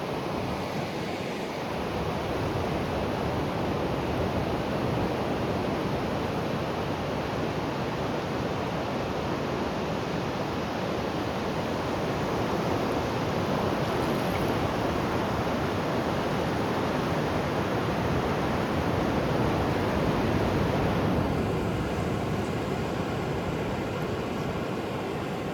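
Ocean waves break continuously on a beach, a dense steady roar of surf that stays loud and even throughout with no voices.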